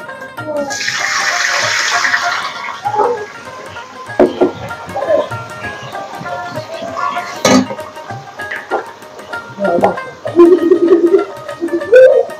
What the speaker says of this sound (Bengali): এখন এর ভিতরে আমি অল্প পরিমাণে পানি দিয়ে দিব।